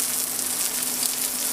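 Wagyu beef steak searing in a hot pan, a dense, continuous close-up sizzle with a faint steady hum underneath and no talking.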